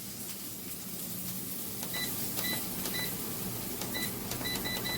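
An air fryer's control panel beeps while being set to 360 degrees for 18 minutes with turkey burgers inside: several short, high electronic beeps, some in quick pairs, over a steady, noisy kitchen background.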